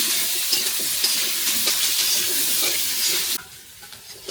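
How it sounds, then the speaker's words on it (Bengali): Potatoes coated in turmeric and salt fry in white cooking oil, giving a bright, dense sizzle with stirring clatter that stops abruptly after a few seconds, leaving quiet room noise. "এখন আমি আলুগুলো মেখে সুন্দর করে ভেজে নিব।"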